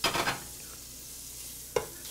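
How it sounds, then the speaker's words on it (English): A soft, steady sizzle of bacon frying in a sauce pot over a medium flame, with a couple of brief clinks of a utensil near the start and a sharp tap toward the end. "You can hear it sizzling already."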